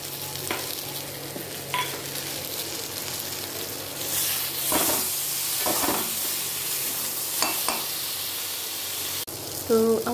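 Puti fish tipped into a pan of fried brinjal for a sidol chutney, sizzling and frying steadily with spoon-stirring scrapes and clinks, a louder burst of hiss swelling midway; close and moderately loud, with no talk.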